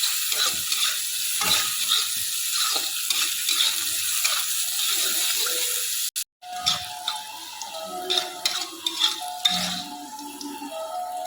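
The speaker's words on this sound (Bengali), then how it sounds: "এখানে ভেজে নিচ্ছি করলাগুলো" Oil sizzles and crackles steadily as bitter gourd fries, with scraping stirring sounds after a brief cut midway; no speech.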